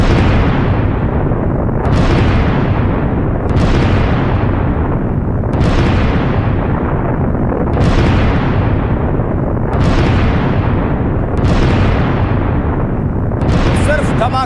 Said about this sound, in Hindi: सिर्फ धमाके ही धमाके सुन रहे हैं आप